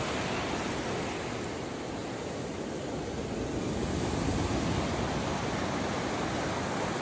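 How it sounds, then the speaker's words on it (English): Salybia River in Trinidad flowing at night, a steady broadband rush of water that stays loud and even throughout with no voices, like continuous surf or a small cascade nearby. "The Salybia River at night."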